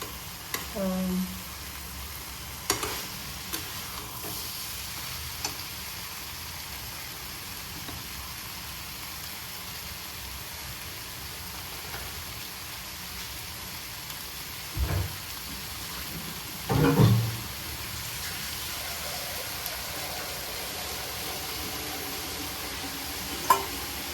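Potatoes and spices stir-fry in a pan with a low, steady sizzle over a long stretch, broken by a few clanks and scrapes of the spoon.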